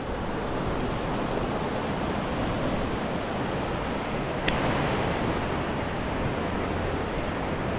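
Calm sea at Gravatá beach gives a steady, even wash of surf and wind that continues throughout without distinct breaking crashes, with one brief faint click midway.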